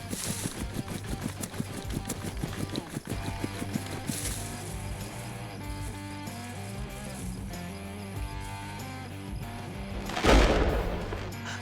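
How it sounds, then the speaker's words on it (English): A single close gunshot cracks out near a home tomato garden, one loud sharp burst near the end that rises above steady background music. "A second shot. And it sounded close."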